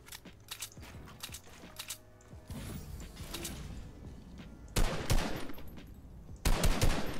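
Rapid minigun fire in the video game Fortnite, bursts of sustained gunfire with whirring mechanical clatter, getting louder in the final seconds.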